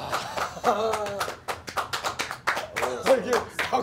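Hand clapping in a golf video game, a series of sharp taps in uneven rhythm mixed in with lively talk from players close by.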